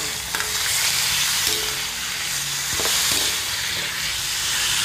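Meat sizzles loudly in a hot pan, a dense continuous hiss with occasional soft pops and stirring knocks, close and with no talking.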